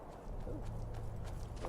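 Hooves clip-clop in a steady gait as a horse moves along a mountain pass in Skyrim, quiet and under a game soundscape with a low rumbling bed.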